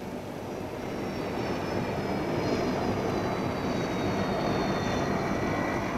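Boeing 707 jet airliner engines roaring steadily and loudly, a continuous broadband rumble with a faint high whine shifting slightly in pitch, with no voices.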